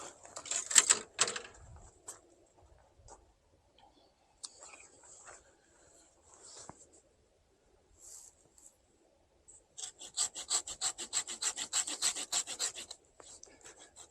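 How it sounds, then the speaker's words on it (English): Hand saw cutting through a thick fig tree branch during pruning, with a few scattered rasping strokes early on, then a fast, steady run of close back-and-forth sawing strokes near the end. "I'm going to need the saw."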